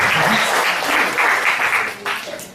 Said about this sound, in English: Can you please give a clap for